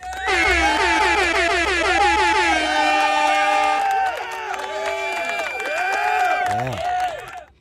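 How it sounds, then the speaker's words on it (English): A loud, blaring air horn sound effect plays with stacked, wavering tones, fading at the end, while a voice talks over it. "An air horn."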